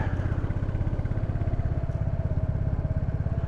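A Royal Enfield Classic 350 motorcycle thumps along a rough, narrow country road, its single-cylinder engine pulsing in a steady rapid beat, close and loud throughout with no voices.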